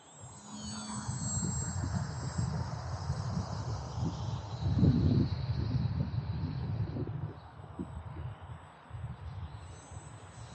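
An E-Flite Conscendo Evolution RC glider-style plane flies overhead outdoors on a clear day, a steady broadband motor and propeller hum with wind hiss, swelling slightly midway then easing, no talking.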